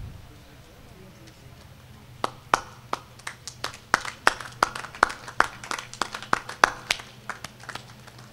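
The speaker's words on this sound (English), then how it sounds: "Everyone, please give a good round of applause." A small group claps for prize-winning teams at an annual sports meet. The claps are sparse and uneven and start after a quiet opening, with each clap sharp and distinct against a low room hum.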